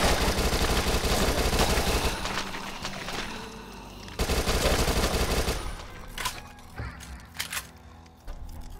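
Rapid SMG bursts in the zombie shooter game Dead Nation, dense continuous fire for several seconds, then breaking into shorter scattered shots over background game noise.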